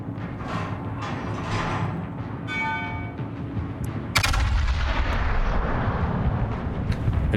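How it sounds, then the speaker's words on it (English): Battleship Izumo's massive main guns firing in the naval combat video game World of Warships: a deep, booming salvo that swells into a loud sustained roar, with a sharp crack midway through. "It's just got these like massive, huge guns that just sound amazing."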